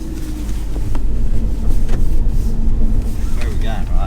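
Porsche 996 on the move along a real road, engine drone steady and close with a low rumble and some wind buffeting; people talk over it throughout.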